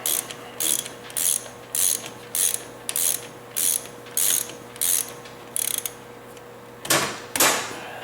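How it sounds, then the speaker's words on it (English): A 12mm 6-point socket on a ratchet tightens a bolt on a Honda Rancher 350 ATV, with about ten quick, evenly spaced bursts of crisp ratcheting clicks, close and clear, followed by two longer, harder ratchet strokes. "I got myself a 12mm 6-point, and now we'll get that last one tightened up"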